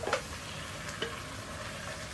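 Pork spare ribs hit a hot pan of wilted vegetables with a soft, steady sizzle and a couple of brief stirring scrapes, close and moderately quiet throughout.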